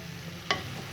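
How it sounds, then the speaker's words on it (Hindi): Cauliflower and potatoes roasting with spices in a pan, heard as a soft steady sizzle with one brief scrape of a spoon. "इसे हम करेंगे अच्छे से भूनेंगे हम तकरीबन 3 से 4 मिनट के लिए मसाले के साथ ही गोभी और आलूओं को अच्छे से।"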